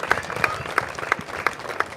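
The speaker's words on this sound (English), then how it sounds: "Let's give them a round of applause" A seated audience at a firefighter college graduation ceremony claps for the graduates' practical demonstration, a modest scattering of hand claps with a few sharper individual claps, fairly close and steady.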